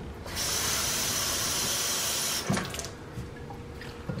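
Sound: water being poured for pancake mix

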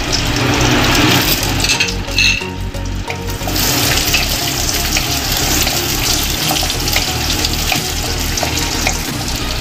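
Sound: cashews and raisins frying in hot ghee in a kadai

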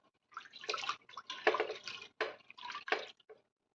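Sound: water poured over soaking toor dal

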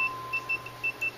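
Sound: multimeter continuity test beep

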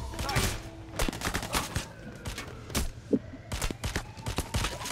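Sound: gunfire in Payday: The Heist video game

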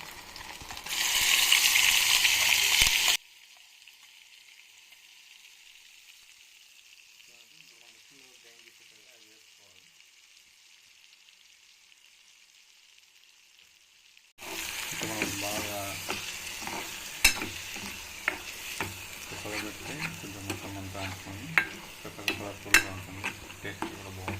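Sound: ground masala paste frying for mutton paya curry

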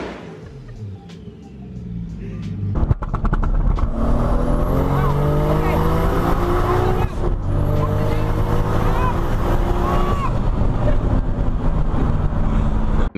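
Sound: supercharged sports car two-step launch control

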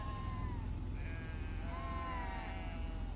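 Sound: sheep bleating in Scotland

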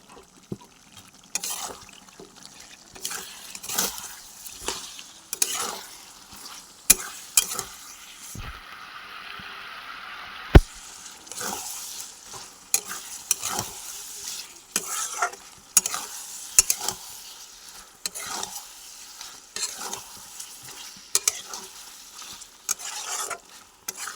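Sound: ginger garlic onion paste and spices frying in pan

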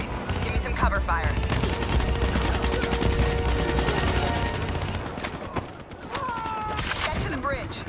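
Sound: gunfire, cover fire in the video game Call of Duty: Black Ops 3

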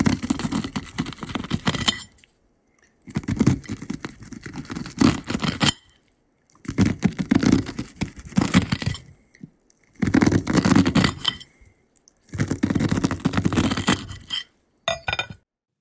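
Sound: knife cutting kernels off a corn cob on a plate

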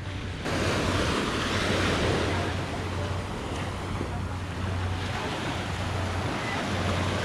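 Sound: ocean waves on a beach

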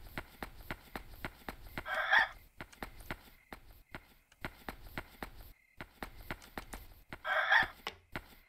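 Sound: chicken clucking in a video game (Yomawari: Night Alone)

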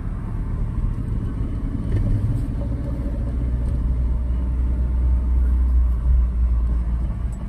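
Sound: car driving in second gear at about 20

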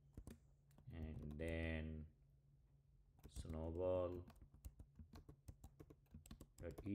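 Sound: typing a terminal command on a computer keyboard

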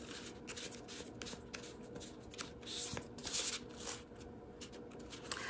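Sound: shuffling a deck of cards

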